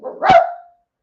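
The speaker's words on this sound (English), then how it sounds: "you can hear my dog barking in it" A single loud, close dog bark with a short tonal tail, heard alone in a quiet room.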